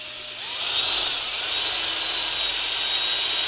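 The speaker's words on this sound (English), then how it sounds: "Go ahead, take the drill." A power drill whines steadily into a silk tree trunk, a high continuous buzzing that ramps up after a quiet start and holds loud and close without pause.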